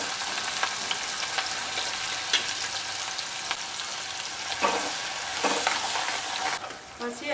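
Onions sizzle in hot oil in a pan for street-style pav bhaji, a continuous bright frying hiss broken by scattered stirring scrapes and clinks, with no talking.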